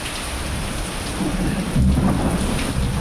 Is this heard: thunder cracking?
yes